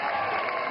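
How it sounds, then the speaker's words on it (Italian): A crowd at the Palio dell'Oca in Cagli applauds in a brief, dense burst of clapping, steady and moderately loud. "ci sono gli applausi anche da parte"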